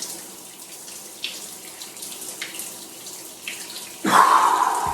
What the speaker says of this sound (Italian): sono sotto l'acqua ghiacciata